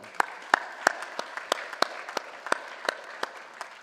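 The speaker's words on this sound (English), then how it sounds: "let's give them a round of applause as well." At a community college commencement, a small audience claps for faculty in sparse, evenly spaced individual claps, about three per second, crisp and fairly close, with no talking over them.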